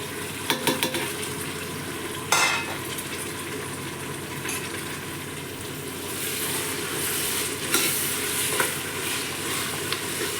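Chicken biryani mixture with chopped coriander leaves being stirred in a pan, steady sizzling with repeated scraping sweeps and occasional sharp utensil knocks against the pot.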